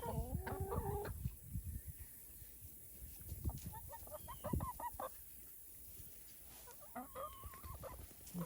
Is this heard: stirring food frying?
no